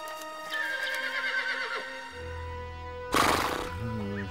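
Horse neighing loudly twice, a long whinny followed by a sharper burst near the end, set over a soft musical background with faint hoof clip-clop.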